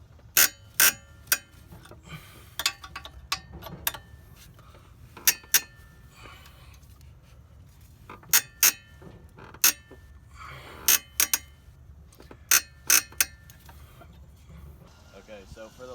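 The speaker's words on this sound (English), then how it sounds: "now you can remove the bolts with the bracket removed" Open-end wrench turning bolts on a 1986 Volvo 740 turbo, giving sharp metallic clinks and ratcheting taps in scattered bursts over a low background hum, close by and with no talking.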